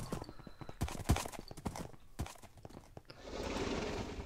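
A Minecraft horse with its hooves clip-clopping in a quick, uneven run of steps under game sounds, then a steady wash of water noise as it swims.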